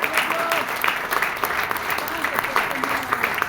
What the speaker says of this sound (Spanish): Otro aplauso fuerte al Señor.